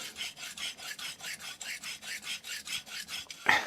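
A knife blade rasping in steady, rhythmic short strokes across an NSK Kogyo Oboro 200 grit vitrified diamond stone, close and alone, about fourteen even scrapes, with a sharper clack at the end.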